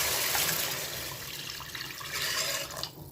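Tamarind water is poured into a pot of fish curry, making a continuous rushing, splashing flow that stays loud for about three seconds and then tapers off at the end. Nobody talks.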